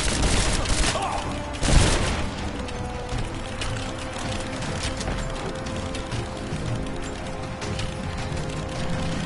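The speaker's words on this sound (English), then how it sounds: "they're just throwing frags" Frag grenades going off in the game Rise of the Tomb Raider, a sharp blast near the two-second mark followed by steady rumbling combat noise and mechanical clatter.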